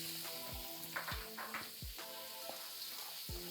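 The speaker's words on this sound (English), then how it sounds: "frying vegetables, you want your wok to get really hot. To this I will add my onions" Onions sizzle steadily in a very hot wok, a close, constant frying hiss with a few scraping stir strokes over it and no talking.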